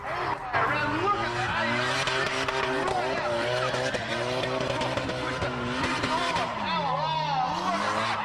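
A silver Toyota AE86 drift car battles at the Drift Nats at Oran Park, its engine revving and sweeping loudly throughout, with tire skids mixed in and a voice talking over the racing.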